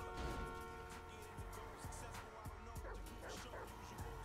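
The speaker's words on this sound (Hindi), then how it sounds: "कुत्ता कितना भौंक रहा है भाई" A dog in GTA 5 lets out a run of repeated barks and yips over a steady droning game background, with a voice partly audible alongside.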